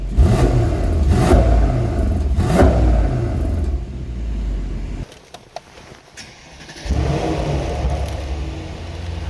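A Mercedes-AMG E63 4MATIC+ exhaust in Sport Plus mode revs hard in a few quick bursts, drops to a quieter rumble, then swells into a deep, steady roar again.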